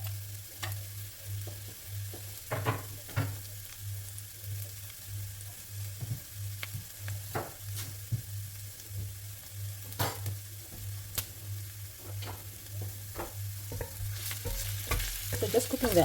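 One small onion frying in hot oil in a pan, with a steady soft sizzle and occasional scrapes and taps of a utensil stirring, continuous and close with no voices.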